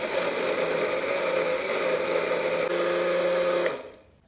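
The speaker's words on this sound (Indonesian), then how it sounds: "Kita akan mulai blendernya sekarang." A kitchen blender whirs steadily as it purees salmon baby food, a loud continuous motor drone that runs close up for several seconds and then cuts off and winds down.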